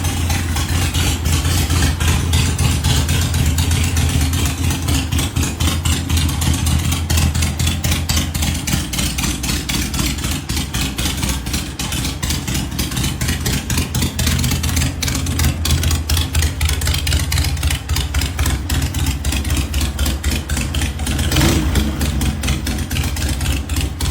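A classic Harley-Davidson Sportster V-twin motorcycle engine runs continuously and loudly up close, with a rapid, even, lumpy idle pulse and slight swells in intensity, no voices.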